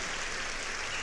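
A live studio audience claps and cheers in a steady wash of applause, moderately distant and even.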